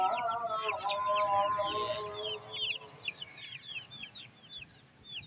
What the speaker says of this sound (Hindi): ये देखिए जी ये देसी चूजे हैं।